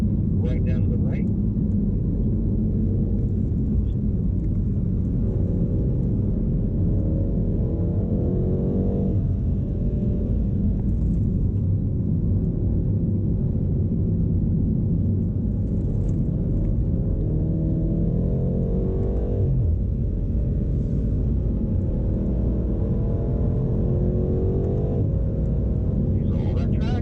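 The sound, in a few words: BMW M8 Competition car driving on a race track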